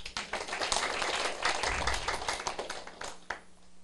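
An audience at a political lecture and assembly in Taiwan claps in a dense, steady patter that keeps going for several seconds before thinning out.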